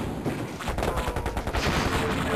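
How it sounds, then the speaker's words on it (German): Machine gun fire from a small MG in the KKND real-time strategy game: dense, rapid bursts of overlapping shots with battle noise throughout, loud and continuous. "Vor allem mit so einem kleinen MG, weißt du, es reicht aus, um meinen Kollegen da wegzuhauen"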